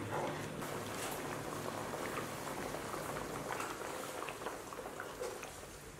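Fish slices simmering in broth on low heat for a home-style boiled fish dish, giving a faint, steady bubbling and seething that runs continuously and softens slightly toward the end.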